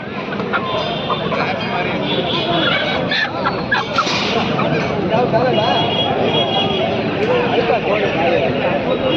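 A rooster's calls and clucking mixed into a busy crowd of people talking at a poultry market for Aseel chickens in Kundarapalli, Krishnagiri District, with a louder squawk midway, continuous market bustle throughout.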